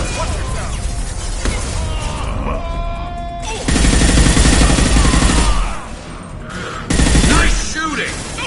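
Rapid bursts of gunfire crackle through a Mass Effect Legendary Edition firefight at a closed mining facility, with loud dense volleys swelling and fading, game voices and groans mixed in.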